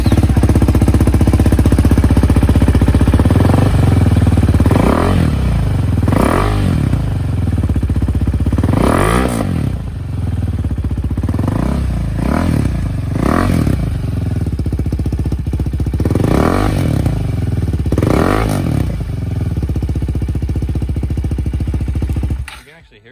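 Husqvarna Vitpilen 401 single-cylinder motorcycle, fitted with a PowerTronic ECU and a Coober airbox lid, revving in neutral: a loud idle broken by about eight sharp throttle blips spaced a second or two apart, with a voice heard briefly.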